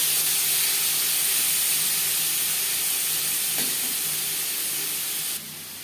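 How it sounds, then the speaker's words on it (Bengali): Marinated prawns fry lightly in a pan for chingri malai curry, giving a steady, close hiss and sizzle with a brief crackle midway. The sound drops in level just before the end, with no talking. "মাছ আমি হালকা করে ভেজে নেব।"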